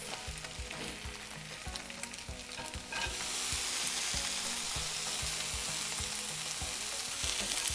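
Egg and vegetables frying together for fried rice in an Instant Pot, a steady sizzle with repeated scraping stir strokes, getting louder and fuller partway through as more goes in, close and with no talking.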